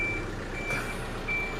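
Reversing beeps from a truck delivering a machine, three evenly spaced high electronic tones over a steady low engine rumble.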